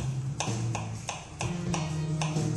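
Garlic being chopped with a small paring knife on a cutting board, a series of about eight crisp, evenly spaced taps close up, set against a steady background hum.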